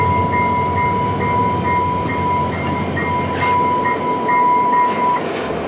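A passenger train bound for Churchill on Hudson Bay rolls along with a steady loud rumble, while a sustained tone hums throughout, likely from the train itself.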